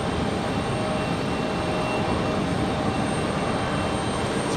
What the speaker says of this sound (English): It's a pretty steep climb out there for Frontier